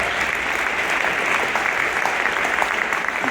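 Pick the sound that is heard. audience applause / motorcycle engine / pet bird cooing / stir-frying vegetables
audience applause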